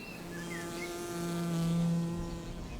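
Wild honey bees buzzing in a beech wood, a steady close hum with a few passing wingbeat tones, alone and fairly faint.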